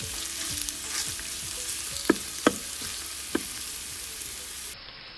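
Chopped onions frying in a pan of ghee and oil while making chicken white pulao, a steady close sizzle with a few sharp stirring clinks and scrapes, no talking.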